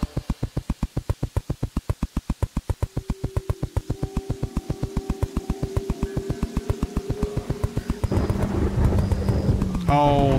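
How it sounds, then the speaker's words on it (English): Thunder from lightning strikes in a Terraria-like video game, building into a heavy rumbling burst near the end, preceded by a long steady pulsing rhythmic game sound. "Oh, the big lightning strikes are back."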